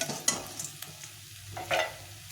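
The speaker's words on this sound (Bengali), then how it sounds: "মাছগুলো ভাজা হয়ে গেছে লাল লাল করে ভেজে নিয়েছি" Tengra fish frying in oil, with a faint, low sizzle and a couple of brief scraping bursts from turning or lifting the pieces.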